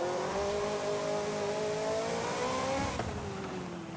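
A car engine in Forza Horizon 5 revs hard and high, its steady whining tone climbing and holding before a quick shift drops the pitch, loud and continuous with no talk over it.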